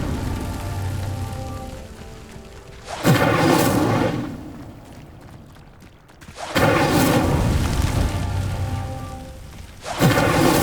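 Incendio fire spell lighting pyres in the PS5 game Trials of Merlin, three loud whooshing, rumbling bursts of flame that each swell and fade, separated by quieter stretches.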